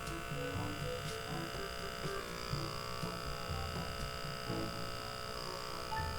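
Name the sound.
Dermasuction blackhead pore vacuum tool humming on skin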